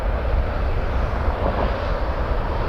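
A jet aircraft departing Toronto Pearson airport gives a steady, fairly loud engine roar that holds throughout, heard alone without talk.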